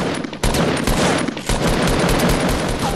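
Rapid bursts of gunfire from a mobile shooter video game, dense and loud throughout with sharp shots layered over one another.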